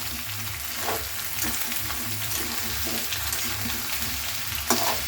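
Cauliflower frying in a pan, a dense steady sizzle with repeated stirring scrapes at irregular intervals and a sharper knock of the utensil near the end.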